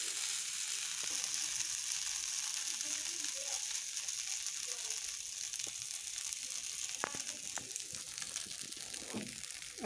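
Rice-batter amboli pancakes sizzle on a hot tawa griddle in a steady frying hiss, with scattered clicks and scrapes as a pancake is loosened and turned.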